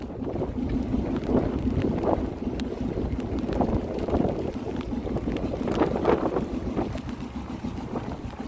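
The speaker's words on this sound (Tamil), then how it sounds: "மழையும் காற்றும் சேர்ந்து வந்துக்கிட்டு இருக்கு." Heavy rain and gusting wind hit a fishing boat at sea, a dense roaring wash with buffeting wind noise on the microphone and occasional louder surges, no talk heard.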